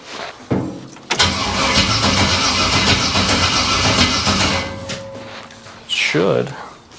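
A 1968 Camaro engine is cranked with the key and catches, running with a loud, rough burble for several seconds before cutting out. It then cranks briefly again near the end, close up.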